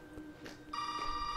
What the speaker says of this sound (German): Ich lass es einfach mal klingeln.